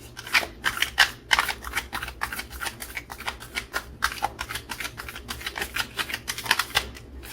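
Tarot and oracle cards are shuffled and handled close up, a rapid run of crisp riffling flutters and snaps that keeps going steadily with no voice over it.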